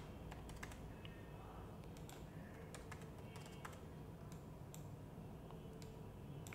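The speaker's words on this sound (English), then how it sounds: "I'll write some small numbers like this, and in this place I'll write very small again numbers." Rapid, irregular clicks of a computer keyboard as numbers are typed into a spreadsheet, quiet and close, with no talk.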